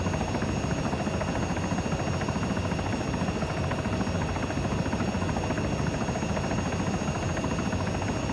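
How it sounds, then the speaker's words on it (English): Helicopter in the video game ArmA 3 flying, heard as a loud, steady rotor and turbine drone with a pulsing rotor beat that continues without a break and with no voices. "Gonna turn the helicopter a little bit more into"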